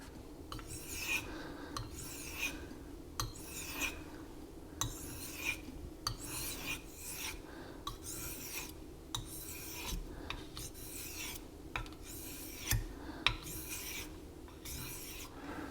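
A knife is sharpened on a Naniwa Chosera 3000 grit whetstone in steady back-and-forth strokes, each one a soft rasping scrape, repeating about every second at close range with no talking.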